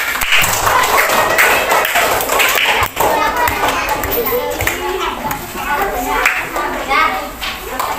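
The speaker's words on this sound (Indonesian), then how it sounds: "tepuk tangan dulu buat Ampat sama Gana" In a classroom during a marble game, children clap for two classmates, a scattered patter of small hands under constant chatter from kids and a teacher.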